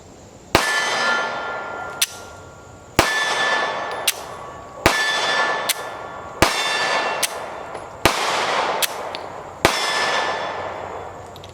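A Kimber Solo pistol fires during an ammunition reliability test, about nine sharp, loud shots spaced roughly a second apart, each followed by a ringing metallic decay, with no talk.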